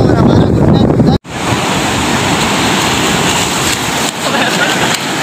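Ocean waves surge and wash continuously at Hawksbay Beach in Karachi, a loud, steady roar with wind buffeting the microphone, briefly cut out near the start, while people talk faintly in the background.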